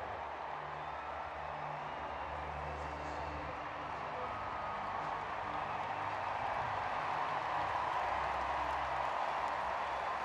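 Home crowd at the London 2012 Paralympic athletics stadium cheers and applauds after a sprint race, a broad steady roar of clapping and voices under a commentator's talk.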